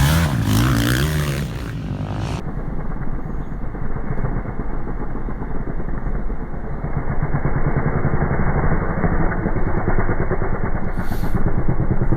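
Racing motorcycles, starter-class bikes, at a Greymouth street race, a sustained engine roar that rises and falls as bikes pass, loud and continuous with a brief higher whine near the end.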